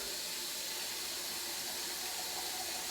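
Water pours steadily into a gallon container as a tea batch is topped up, a continuous even hissing rush at close range, fairly quiet and unbroken, with no talking.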